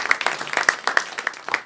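Sparse, scattered clapping comes from a small part of a stand-up comedy audience, giving a handful of near, uneven claps over a brief moment.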